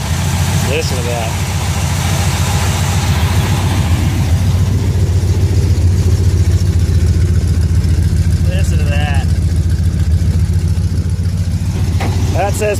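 The 440 Six Pack V8 of a 1971 Dodge Charger R/T tribute idles with a deep, choppy rumble up close, steady and loud throughout.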